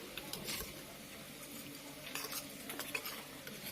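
A spoon stirs turmeric, cumin and coriander powder into water in a small vessel, giving faint, soft swishing and light clinks against the sides, close and quiet.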